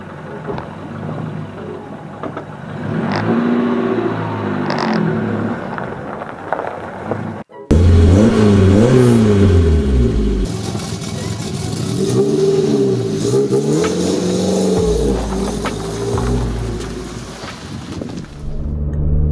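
A Peugeot 309 GTI with its XU engine accelerating, heard from on board as a loud engine revving up and down through the gears, climbing and falling in pitch throughout.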